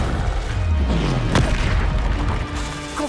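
A fiery Incendio spell blast goes off in Hogwarts Legacy, a single loud whooshing burst with a sharp crackling hit in the middle over a dense layer of game effects and low rumble.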